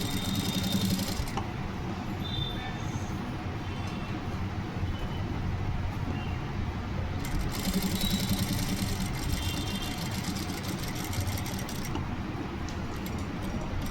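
Sewing machine running steadily while stitching along the edge of a colour neck on a garment, a continuous close motor whir with needle chatter and no talk.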